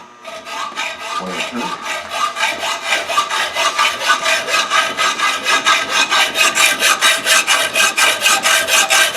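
Hand saw cutting through a mild steel rod measured to 8.5 inches in a workshop, a steady series of rhythmic back-and-forth rasping strokes, close and loud, carrying on alone throughout.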